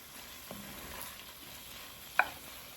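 Softening vegetables for arroz con pollo are stirred gently in a pot, a quiet scraping hush broken by one sharp clink of the spoon.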